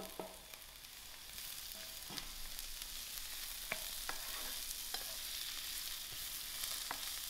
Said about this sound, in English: While my mushrooms are frying,